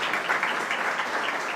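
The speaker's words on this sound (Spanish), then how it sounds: "a quien pido también un aplauso." An audience at a municipal ceremony breaks into brief, steady applause, a dense wash of clapping hands with no voices.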